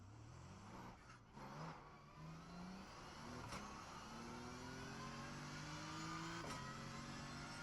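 A race car engine drones steadily at the Nürburgring in the iRacing sim, rising in pitch as it revs through gears, with a few sharp shifts and no talking.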